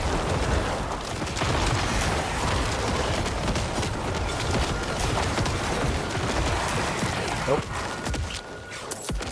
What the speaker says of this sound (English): I can hear it shooting its quill at me